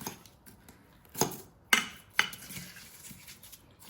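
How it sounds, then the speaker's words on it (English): Frozen kombucha granita scraped and fluffed with a fork, giving three sharp metallic scrapes and clinks against a dish between quieter crunchy rasps, close and fairly soft, with no talking. "using a fork, we just fluff it up and we get nice chunks out of it"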